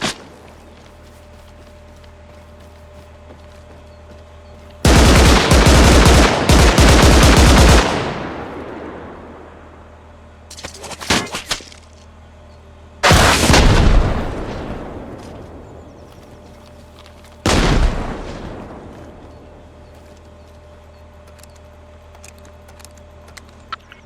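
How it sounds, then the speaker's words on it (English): Loud, close bursts of automatic gunfire in the Arma Reforger video game on a Ukraine-Russia realism server: a long sustained volley followed by shorter bursts with reverberant tails and quieter gaps between them. "That's not friendly firing on the armored vehicle"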